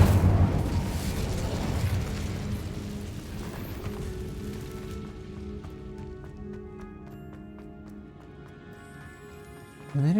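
A fiery Incendio spell bursts in Hogwarts Legacy's winter setting, a loud blast at the start that fades into a crackling, rain-like tail as soft musical tones rise underneath.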